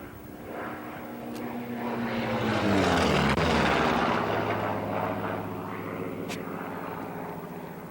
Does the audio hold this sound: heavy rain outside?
no